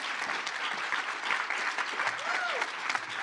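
A conference audience applauds keynote speakers at an education technology keynote, with dense, steady clapping throughout and a faint voice briefly audible beneath it.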